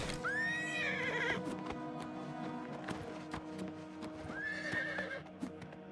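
A horse in Oblivion Remastered whinnies loudly twice, a few seconds apart, over clip-clopping hooves and background game ambience.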